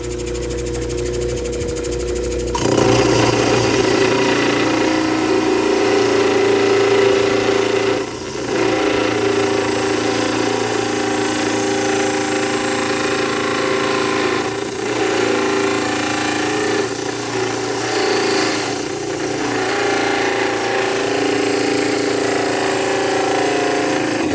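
A Diamond Pacific Genie trim saw cuts stone with a loud, steady motor whine and grinding drone. The sound starts abruptly and runs continuously up close, with brief dips where the blade load shifts, and no one speaks.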